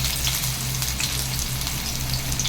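Small shallots frying in oil for a cauliflower fry, a dense, even, loud sizzle like steady rain that runs without break, with a low hum underneath and no voices.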